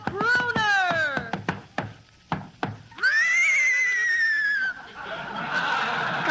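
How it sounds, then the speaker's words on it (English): Radio sound-effect horse neighing as a rider enters a studio: a loud whinny with descending pitch, a few short snorts and huffs, then a long, high neigh, bright and close. "Hey, Abbott, there's somebody riding into the studio on a horse."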